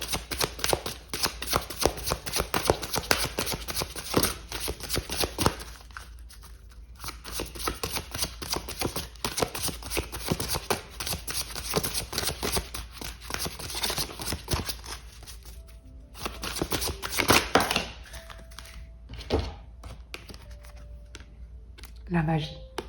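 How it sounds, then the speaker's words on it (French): Oracle cards are shuffled close by in quick rhythmic bursts of papery riffling and slapping, pausing now and then and starting again, while someone talks over parts of it. "On va prendre pour terminer ce message une carte des chemins de"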